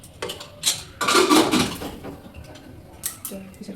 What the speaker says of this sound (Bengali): রসুনগুলো দিয়ে দিব, দিয়ে ঢাকনাটা লাগিয়ে দিই।